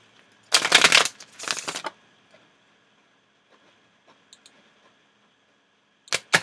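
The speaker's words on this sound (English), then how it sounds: "A couple more shuffles, a little bit more shuffling." Tarot cards shuffled in two quick riffling bursts close by, followed by a few faint ticks and a brief final riffle, with no talking.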